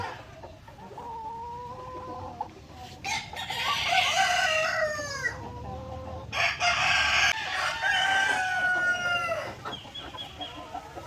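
Barred Rock chickens on a farm, newly set out on the ground, clucking steadily with a rooster crowing twice in loud, close, drawn-out calls over a quiet outdoor background.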